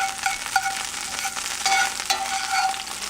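Oxtail sizzles and crackles steadily in a hot pot, a dense frying hiss with small pops throughout.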